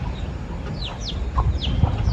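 Chickens cluck while being fed, giving a string of short, close calls and squawks over a steady low background bustle.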